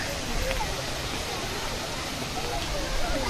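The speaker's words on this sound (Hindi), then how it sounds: "झरना देखिस ना" A waterfall in Keonjhar roars as a steady, loud broadband rush of falling water, continuous throughout, with people talking faintly beneath it.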